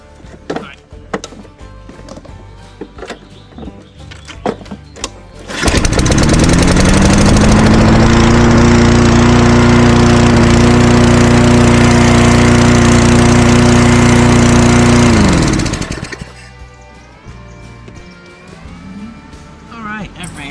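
A Lawn-Boy lawn mower engine, freshly fitted with a replacement carburetor, catches and runs loud and steady for about ten seconds, then cuts off, with clanks and handling noises before and after.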